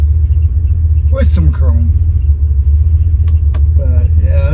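A 1970 Chevrolet Nova with a mild small-block engine idles in a loud, steady low rumble throughout, while someone talks over it.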